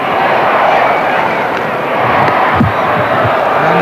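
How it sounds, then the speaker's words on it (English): A large 1978 World Series Cricket crowd at an Australia vs West Indies match cheers in a sustained, loud roar of noise, with a few sharp crackles and thumps over the broad wash of voices. "The crowd in raptures"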